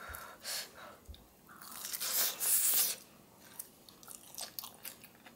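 Someone bites into a crunchy potato croquette filled with cheese and chews it, with a loud crisp crunch followed by quieter chewing and crackling, close up and without talk.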